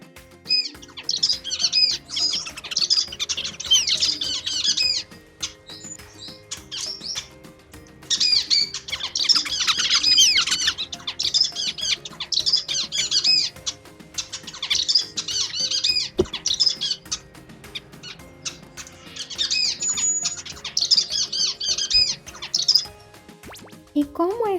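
Timor zebra finch, a subspecies with a faster, more complex and higher-pitched song, singing in three long bursts of rapid high chirps and tweets with brief pauses between, close and fairly loud.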